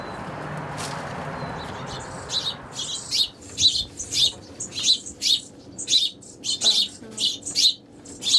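Rhythmic crow calls repeat at a steady pace over a rustling background, loud and close, in an enclosure at feeding time, following a stretch of scuffling noise.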